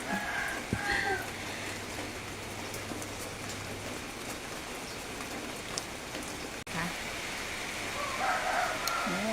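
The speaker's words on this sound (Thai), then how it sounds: "ฝนก็ตกแรงอยู่เหมือนกันนะ" Heavy rain falls steadily and close by, a dense continuous hiss of drops pattering on surfaces with a single brief knock partway through.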